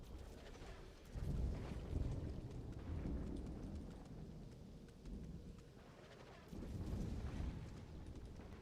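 Thunder from a nearby storm: low, rolling rumbles swell in several waves over a constant bed of rain, fairly faint and distant.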